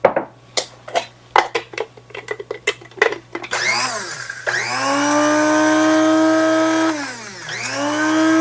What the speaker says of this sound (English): we are also going to be putting this in our coffee grinder